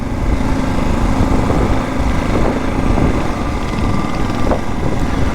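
A 2023 Mash 650 X-Trail single-cylinder motorcycle carries two riders, its big thumper engine droning steadily under rushing wind noise, loud and continuous with no talking.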